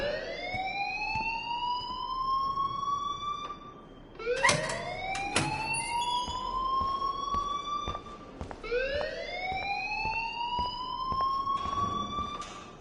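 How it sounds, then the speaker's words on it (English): A wailing electronic alarm in the video game Life is Strange sweeps upward in pitch three times, each whoop climbing and holding, with a few sharp clattering clicks between the first and second cycles. No voices are heard. "please turn off that alarm since that's your job"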